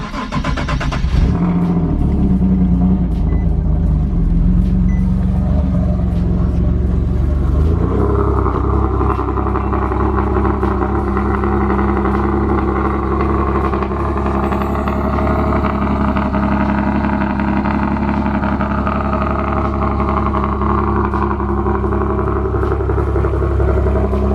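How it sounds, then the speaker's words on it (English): A turbocharged Nissan 370Z engine cranks and catches, then settles into a loud, steady idle with a deep rumble and a slight rise in pitch, heard close and continuous with no talk. "we're gonna go ahead and start this car, make sure everything's good one last time"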